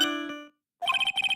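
A cellphone rings in the Phoenix Wright: Ace Attorney – Trials & Tribulations game: a fading chime tone, a short pause, then rapid trilling electronic ring bursts repeating in quick pulses, close and clear with no voices.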